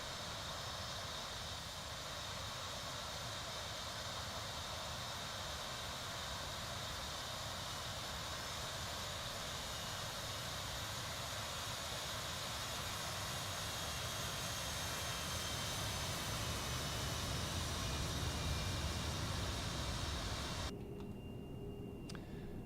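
An airliner landing in the Prepar3D flight simulator gives a steady, loud broadband engine roar with a jet whine. It holds level for about twenty seconds, swells slightly near the end and then cuts off abruptly.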